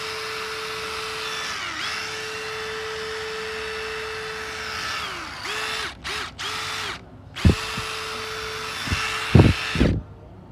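A 2019 Makita DTD153 cordless impact screwdriver whirs with a steady motor hum, stops and restarts in short bursts, then hammers out several loud, rattling impact bursts near the end.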